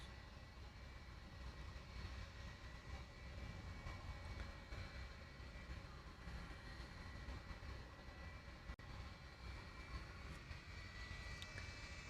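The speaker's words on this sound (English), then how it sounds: "I think I hear 737-200 coming around the corner. Sure sounds like a 737-200." A Boeing 737-200 jet approaching Honolulu airport gives a steady, broad engine roar that holds at a moderate, fairly distant level throughout, with no voices.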